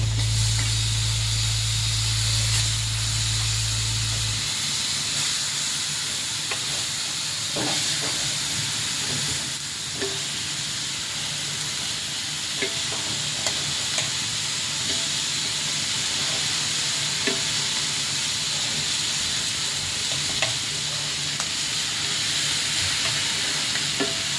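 Tamban fish grilling in a pan without charcoal sizzles and hisses steadily, a loud close frying crackle throughout with small pops, and a low hum during the first few seconds.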